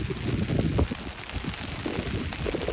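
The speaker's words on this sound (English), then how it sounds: "it is raining. Woo! Cats and dogs out here" A heavy outdoor downpour makes a loud, continuous rushing roar, with rumbling gusts of wind buffeting the microphone and no speech.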